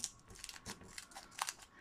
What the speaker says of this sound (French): c'est beaucoup plus facile d'ouvrir avec la paire de ciseaux qu'avec mes mains